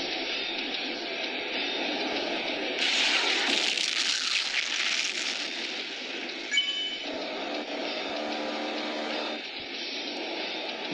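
Aircraft engine roar from a video game aeroplane, a steady loud drone that swells briefly midway and then settles back to a constant hum.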